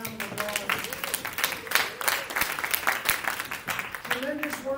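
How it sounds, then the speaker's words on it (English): An audience at a teachers' union rep council meeting claps in steady applause, with a voice speaking over the clapping near the end. "give yourselves a round of applause."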